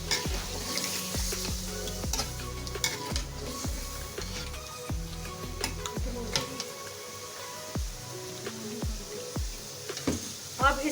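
Chicken frying in a pan with yogurt mixed with red chili powder: a steady sizzle with repeated stirring and scraping knocks, close and fairly loud, with no talk.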